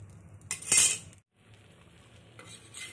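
Besan batter with onion and chopped green chilli cooking in ghee, a soft sizzle with clinks of a utensil scraping the pan, alone and close.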